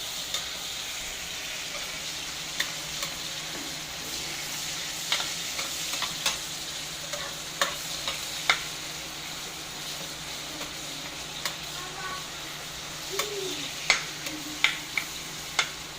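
Tomatoes being crushed and cooked down in a pan for a salted shrimp dish give a steady close sizzle, broken by scattered scraping and clicking stirs, with no voices.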